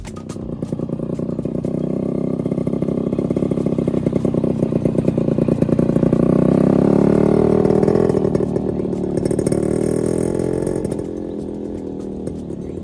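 A fully restored 1994 Yamaha RX-100 two-stroke motorcycle engine runs steadily, a loud close buzzing rattle that swells briefly as it is revved slightly, then settles back to a steady idle with no talk.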